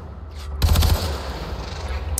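Automatic gunfire from a shooter video game bursts loudly in a rapid string of shots lasting about a third of a second, followed by a low rumbling tail and a faint click.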